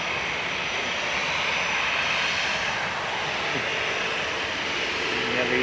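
A close, loud EasyJet jet airliner taxiing at Manchester Airport sends out a sustained, roaring engine whine with a broad hissing rush that holds steady throughout and swells slightly near the end.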